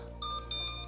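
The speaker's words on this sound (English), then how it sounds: "it's beeping at me because we're not doing anything." A Holy Stone HS720G drone sitting idle on the ground gives two short electronic beeps a moment apart, faint over a steady low hum.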